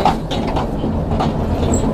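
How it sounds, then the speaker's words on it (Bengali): Locomotive heading the Dhalarchar Express from Rajshahi approaches Arani railway station. A loud, close, steady rumble is heard with faint rhythmic knocks across a brief stretch and no speech. "পঁয়ষট্টিতে লোকোমোটিভ নিয়ে আসছে"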